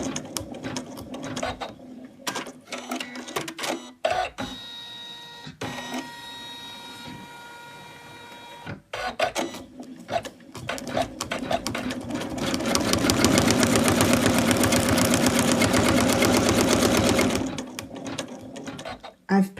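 Embroidery machine stitching the belt placement line on an in-the-hoop Santa doll, a dense rapid mechanical whirring and clatter that starts and stops in bursts, then runs loud and steady for several seconds near the end.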